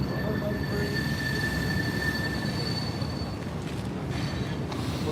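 A long CSX freight train rolls steadily past close by, its wheels letting out sustained high-pitched squeals over a continuous rumble and clatter of cars.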